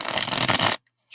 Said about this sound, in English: I think I shuffled enough times